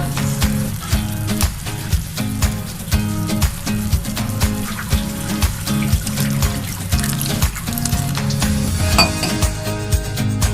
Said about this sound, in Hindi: और ये अब मैं चावल डाल रही हूँ